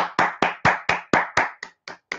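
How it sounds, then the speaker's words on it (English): A small group claps for the Buffalo Bills reaching the playoffs, about ten sharp, evenly spaced claps close by that thin out toward the end, with no talking. "round of applause for the Buffalo Bills for making it to the playoffs for the first time since 1999"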